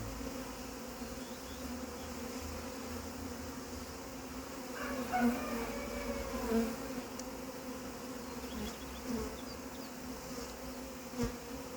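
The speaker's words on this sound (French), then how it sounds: "il y avait quasiment toutes les abeilles qui battaient le rappel sur la ruche" Honey bees drone in a steady, close buzz at a hive as a recovered swarm settles in after being hived, with a few slightly louder swells partway through. No one speaks.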